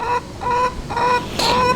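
Chickens cluck nearby in short, repeated calls, a few overlapping bursts with a quick rhythm.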